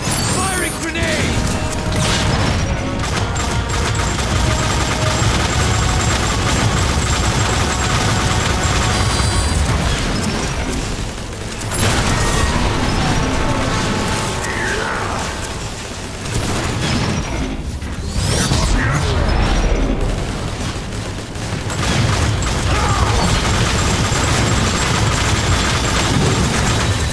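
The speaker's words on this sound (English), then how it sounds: "Firing grenade!" Grenade launches and explosions in the Transformers War for Cybertron video game: loud repeated bursts and crashing blasts over a dense mechanical din, with a voice speaking among the chaos.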